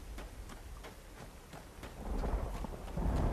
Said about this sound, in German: Aber schön, schön, dass es regnet.